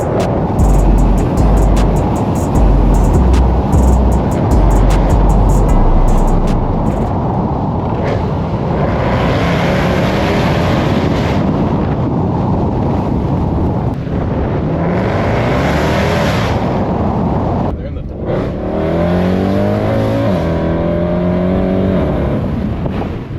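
Mercedes C63 AMG W204 with its V8 exhaust cruising loud and close, a steady low rumble with swelling revs and gear changes, accompanied by a Jaguar XFR and a V8 Audi S4.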